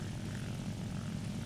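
Engine of an Fw 190A-5/U2 fighter aircraft in a video game, a steady, heavy propeller drone that holds even and loud throughout the brief moment, with no voices.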